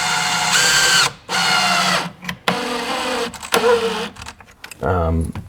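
A power drill drives screws to fasten the grill of a Rockford Fosgate subwoofer in a JDM Honda S2000, giving several loud whirring bursts of motor whine that start and stop, separated by brief pauses and clunks.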